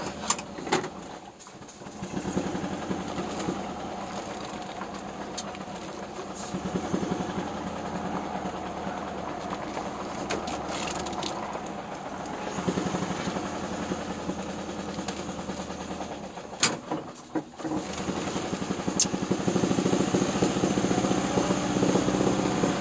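A steady car engine rumble drones throughout while driving, rising in intensity toward the end as the throttle opens, with brief dips and occasional clicks.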